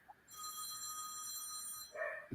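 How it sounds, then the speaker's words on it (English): A phone rings faintly in the background during an open-forum talk show, a high electronic ringing tone lasting under two seconds, followed by a brief thump. "My phone has been ringing off the hook"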